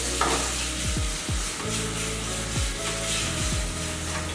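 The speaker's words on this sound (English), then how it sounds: "You can hear the sizzle right away." Steady, loud sizzling of beef searing in a hot pan for Hanoi-style pho, with a few brief scraping stirs breaking through the constant crackle.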